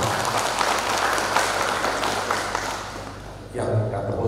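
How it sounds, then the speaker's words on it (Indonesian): Audience applause fills a World AIDS Day motivational seminar hall, a steady broadband wash of many hands clapping that fades out near the end. A voice speaks over it. "Tepuk tangan untuk kita semuanya."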